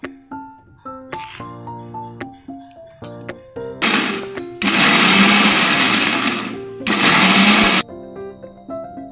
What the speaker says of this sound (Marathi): मिक्सरमधून असे जाडसर वाटून घेतलेले आहे